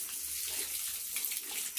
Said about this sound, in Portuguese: molhando bem o tomate